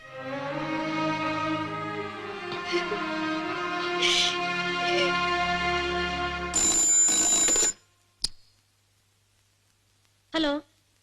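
A telephone rings in a Malayalam film scene, a bright ringing burst under a music background, followed by a brief click and a second short ring a few seconds later.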